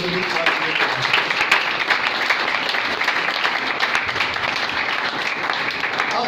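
A church congregation at a Father's Day sermon claps steadily and loudly in praise of God, a dense unbroken wash of applause with voices mixed in throughout.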